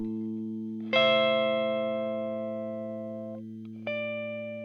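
A sustained, shimmering electric guitar chord looped through effects pedals rings out, fading slowly; a fresh chord is struck near the end and swells again.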